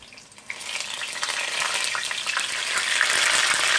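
Tuna cakes frying in a pan, spitting and crackling where wet hands met the hot oil, a close sizzle that grows louder and denser, with sharp pops scattered through it.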